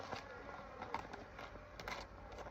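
Honeybees hum around an opened hive in a faint, continuous buzzing, with individual bees droning briefly closer at times.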